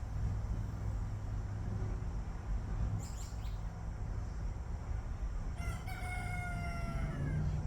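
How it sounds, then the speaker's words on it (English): A rooster crows twice over a low rumbling background, the second call longer and more drawn out. "I'm the real rooster."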